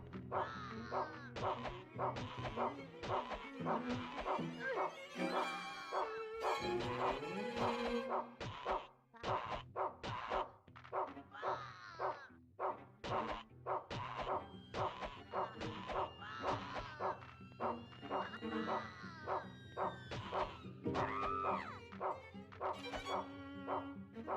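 In the video game Rule of Rose, a dog barks over and over, yipping and whimpering at moderate volume amid game sounds and combat noise.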